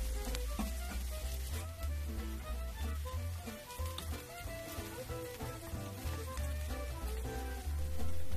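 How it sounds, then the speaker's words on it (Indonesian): Shallots frying in hot oil in a wok for a spicy beef curry, a steady close sizzle with faint scraping, while strong low tonal music plays throughout. "goreng bawang merahnya dulu"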